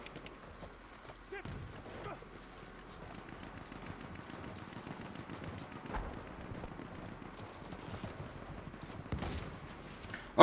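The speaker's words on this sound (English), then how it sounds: "Hold extra, ride the horse." Hooves clop at a quick gallop as a horse is ridden in the video game Battlefield 1, a faint, rapid rhythmic thudding beneath game ambience and occasional clunks.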